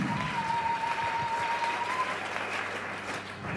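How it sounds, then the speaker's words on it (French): Congregation clapping together in a church, a sustained wash of applause heard from within the room, fading slightly toward the end. "On acclame très fort."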